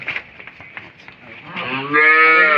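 A Friesian dairy cow, a young one without grown teeth, lets out a loud, close, sustained moo after a stretch of quieter shuffling noise.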